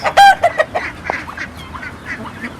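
Ducks and guinea fowl: loud honking quacks burst out nearby at first, followed by softer scattered calls and chatter from several fowl.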